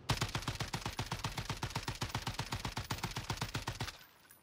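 Rapid-fire automatic gunfire from a video game weapon driven by a Cronus Zen rapid-fire script at about 15 rounds per second, a steady loud burst of evenly spaced shots lasting about four seconds before cutting off.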